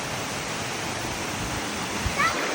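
Small waterfalls spilling into a pool on the Eaton Canyon trail, a steady broadband rush of falling water heard close and continuous, with a brief faint sound near the end.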